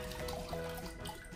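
Water drains and trickles out of a giant stress ball that has been cut open underwater, with slime inside; a continuous, fairly soft sloshing and dribbling runs steadily throughout with no voices.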